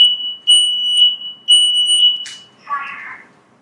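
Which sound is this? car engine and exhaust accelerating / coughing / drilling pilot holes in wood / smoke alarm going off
smoke alarm going off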